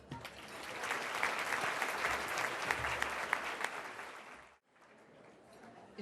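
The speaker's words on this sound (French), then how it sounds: "on va vous ovationner, on va vous applaudir" A large audience claps loudly and steadily in an ovation at an evening ceremony, then the applause drops abruptly and carries on more faintly to the end.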